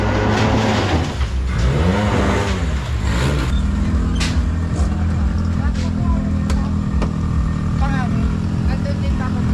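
A Nissan car engine runs steadily and loudly, close by, during a test drive after being repaired from a no-start fault, with a continuous low hum and some fluctuation early on; people talk over it.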